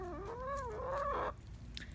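A single close, drawn-out cluck from newly integrated backyard chickens on a cold morning, a rising and falling call that ends abruptly and leaves faint ambient noise behind.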